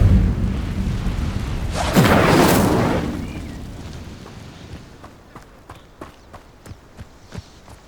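A fire spell cast in Hogwarts Legacy bursts in a loud, roaring whoosh of flame that fades away. Afterward comes a series of quieter, evenly spaced footsteps.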